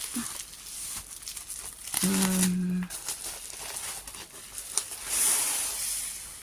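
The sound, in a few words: removing bubble wrap packaging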